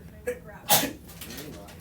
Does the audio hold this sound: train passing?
no